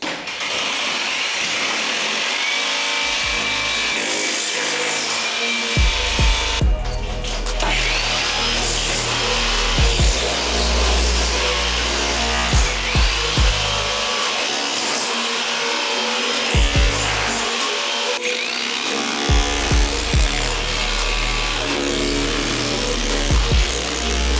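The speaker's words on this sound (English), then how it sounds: "when I'm going through breaking up so many tiles, the last thing I want to do is just fill this room up with dust" Floor tiles being broken up and pried loose during a kitchen renovation, with repeated sharp impacts and cracking over a steady, loud background of clatter and scraping.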